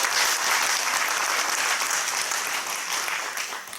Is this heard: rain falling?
no